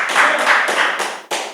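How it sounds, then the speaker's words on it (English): A few loud, close hand claps in a quick uneven series, each sharp and slightly ringing, in a podcast-style talk setting, with no speech heard. "I'm gonna clap it up for that"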